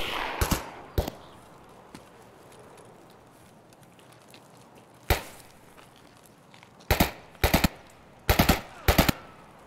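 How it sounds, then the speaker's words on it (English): Gunfire in the shooter game Escape from Tarkov: scattered sharp shots and short bursts, a couple early, then several rapid clusters toward the end, over a quiet ambient background. "Somebody over here shooting."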